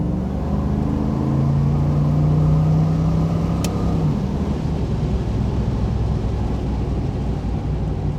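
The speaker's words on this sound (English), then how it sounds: "This is a very nice running car, very fun to drive." A TTA Performance car running a manual boost controller and water injection, heard as a loud, close engine pulling hard with a rising whine that drops away after a shift, then a steady cruising drone.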